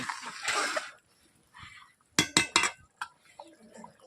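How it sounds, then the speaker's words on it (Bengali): Snail curry boiling in a pot is stirred with a spatula, giving a quick cluster of sharp metallic clanks against the pan, followed by a few softer knocks, with quiet bubbling and a brief voice around them. "বন্ধুরা দেখতেই পাচ্ছেন ঘুগলিটা ফুটছে এইভাবে আমি খুঁটিতে নেড়ে নিচ্ছি"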